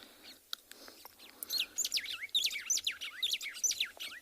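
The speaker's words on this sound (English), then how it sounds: "It's called a white-browed sparrow weaver." White-browed sparrow weavers call in a rapid run of bright, looping whistles and chirps, nearby and lively after a few scattered notes, in the South African bush.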